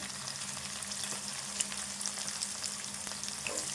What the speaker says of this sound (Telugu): ఉల్లిపాయ వేగదాకా వేసుకుందాము